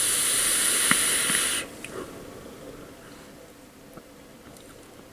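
An Origa Vape e-liquid being vaped, heard as a steady loud airy hiss of draw and exhale that cuts off abruptly after about a second and a half, leaving quiet room noise.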